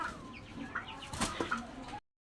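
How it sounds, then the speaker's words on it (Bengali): A Brahma hen gives a few soft, close clucks and short throaty calls lasting about two seconds before the sound cuts off. "আমার এখানে ব্রাহ্মা মুরগিটা আমার সাথে ফাইট করে"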